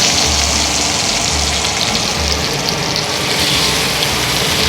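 An Arspura kitchen range hood fan runs steadily, a constant broadband whoosh of moving air with a faint low hum, holding an even level throughout with no one speaking.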